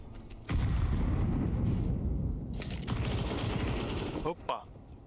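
Counter-Strike 2 grenade blast, a loud heavy burst that rumbles on for several seconds amid gunfire, followed by a short sharp crack and a player's voice.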